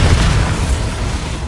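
Bombarda blasting spell going off in Hogwarts Legacy, a loud, dense booming explosion rumbling through the whole moment with a sustained low-end roar and crackle.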